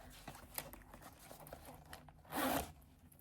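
Curved zip on a Prada Re-Edition 2005 bag being pulled closed, a stiff zipper that catches in places: soft scratchy rasps build to one loud, close zipping burst near the end.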